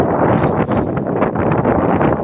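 Strong wind roars and buffets the microphone without a break, a loud, rough, constant rush.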